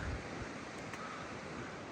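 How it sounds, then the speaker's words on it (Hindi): Steady, broadband rushing of a waterfall below a mountain trail on the Buran Ghati pass in the Himalayas of Himachal Pradesh, a constant roar with no voices. "तो अब नीचे झरना है"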